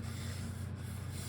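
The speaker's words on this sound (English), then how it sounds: "So what I'm going to do is sand this at least" Steady sanding of a wooden chair back leg, a continuous, even rubbing rasp with a low hum underneath, faint and unbroken.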